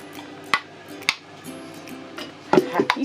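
Home-canned apple jars cooling after processing, their lids sealing shut with a few sharp, isolated clicks and pops spaced across a few seconds, faint against a quiet kitchen background.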